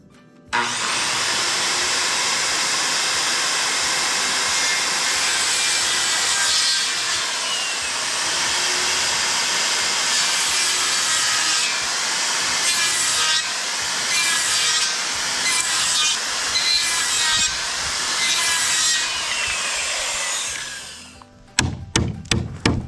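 Wood being cut with a saw for the walls of a tractor enclosure, a continuous loud rasping stroke sound running steadily for about twenty seconds, then stopping, followed by a few sharp knocks.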